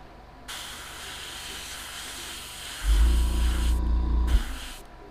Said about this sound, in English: the Iwata airbrush is a two-stage airbrush